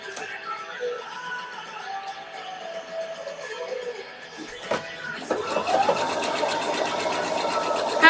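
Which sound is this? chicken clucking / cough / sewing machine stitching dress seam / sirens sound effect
sewing machine stitching dress seam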